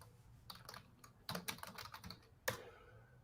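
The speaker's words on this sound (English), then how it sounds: "Some good typing he did." Someone types on a computer keyboard in quiet, irregular bursts of soft key clicks, including a brief flurry and one sharper tap near the end. No one speaks over it.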